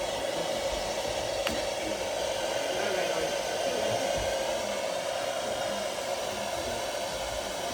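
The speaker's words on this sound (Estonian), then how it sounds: "Ja me hakkame praegu kanat föönitama." A hair dryer runs steadily on a farm as it blow-dries a chicken, a continuous close airy roar that holds level throughout with no pauses and no talk over it.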